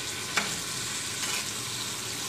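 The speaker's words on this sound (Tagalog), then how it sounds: "Haluin lang natin ng haluin" Bamboo shoot adobo in a pan gives off a steady, close sizzle, with one sharp scrape of stirring near the start and a softer pass later on.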